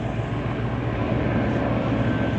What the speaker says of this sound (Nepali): हेर हेलिकप्टर